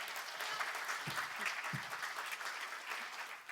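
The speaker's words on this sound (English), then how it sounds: "I think he deserves a better round of applause." Steady audience applause, a dense patter of many hands clapping at moderate distance, sustained throughout without pause.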